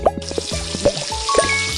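Short dripping and splashing bursts of shower water in the Jungle Animal Hair Salon 2 kids' game, a few separate spurts with soft tonal chimes between them.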